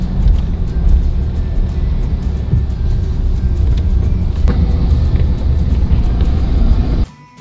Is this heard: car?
yes